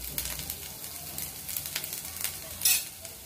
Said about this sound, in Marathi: अद्रक लसूणचा वास जाईपर्यंत एक मिनिट आपण हे फ्राय करून घेऊया